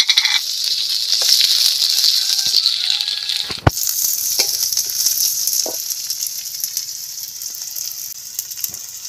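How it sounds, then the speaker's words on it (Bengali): Onions frying in hot oil for an aloo paratha filling, a steady bright sizzle with crackles and occasional stirring clinks, close and continuous. "গরম হয়ে গেছে তাই দিয়ে দিচ্ছি পেঁয়াজ।"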